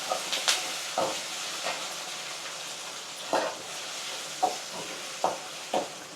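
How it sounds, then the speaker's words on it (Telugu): Ginger paste frying in a pan for brinjal curry, a soft continuous sizzle with a few sharp spatula scrapes and stirs at intervals, close by. "ఇది పచ్చివాసన అంతా పోయిందాక వేయించుకుందాం."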